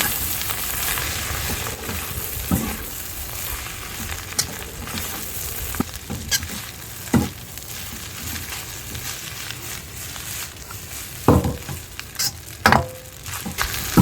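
Egg prawn fried rice being stirred and mixed in a pan over a village cooking fire: a low, continuous frying hiss broken by occasional knocks and scrapes of a spoon against the pan, no speech.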